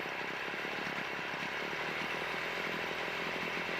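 Small two-stroke strimmer engine idling after a carburetor tune, a steady buzzing putter at low level, continuous and unchanging for a few seconds with no speech.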